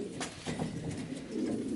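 Young racing pigeons cooing close by, low soft burbling calls repeating steadily with a faint rustle underneath.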